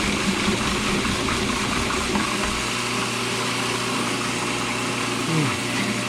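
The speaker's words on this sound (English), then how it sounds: "let's start by pureeing what we got in the food processor real quick" A Magimix food processor purees basil and almond pesto with a continuous buzzing motor whir, its pitch shifting slightly partway through as the blade works, heard close up and under some talking.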